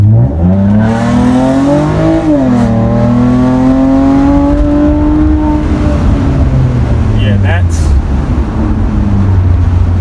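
A loud, raspy straight-piped 2019 Toyota Avalon exhaust revs up and roars as the car accelerates out of a corner, its pitch climbing and holding steady with a gurgling rumble throughout.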